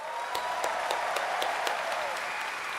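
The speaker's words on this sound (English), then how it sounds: "Clap, clap." An audience at a live Gamescom games event claps together in a dense, steady burst of applause, close and moderately loud, with no talking over it.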